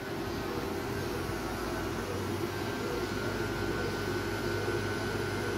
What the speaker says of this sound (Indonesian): Yang jelas kompresor AC mobil bakal nyala kayak gini